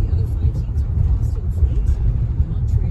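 A 2015 Cadillac Escalade drives along the road, heard as a steady low rumble of engine and tires inside the cabin, with someone talking over it.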